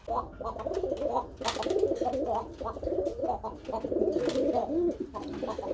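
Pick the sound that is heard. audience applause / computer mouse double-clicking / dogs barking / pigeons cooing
pigeons cooing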